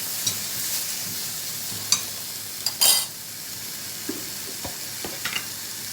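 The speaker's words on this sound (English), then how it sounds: "Now we will saute this on a high flame till it caramelizes a little bit." Sliced onions and capsicum sauté on a high flame for a bread burger sandwich, making a steady sizzle with occasional sharp spatula scrapes and clinks against the pan.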